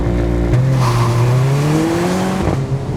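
Mercedes-Benz GLA45 AMG crossover with a sports exhaust accelerating hard, the engine note climbing, dropping sharply on an upshift and climbing again, loud and close.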